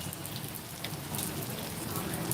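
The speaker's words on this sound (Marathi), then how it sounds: "देगलूमध्ये दमदार पावसाला सुरुवात" Heavy rain pouring down in Degloor, a dense, steady hiss of drops hitting surfaces close by, with no letup and no talk.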